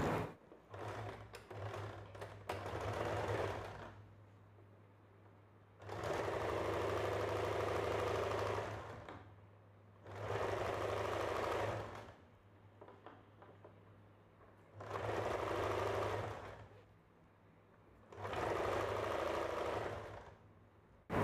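A sewing machine stitches a princess-cut blouse in four or five distinct runs of a few seconds each, a steady close whirring hum broken by short quiet gaps, with faint handling noises at the start.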